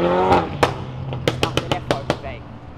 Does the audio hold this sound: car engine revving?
yes